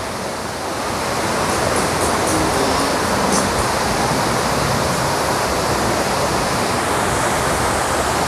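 Water cascades steadily at the Fort Worth Water Gardens in downtown Fort Worth, a loud, unbroken rushing roar that swells in during the first second and then holds constant.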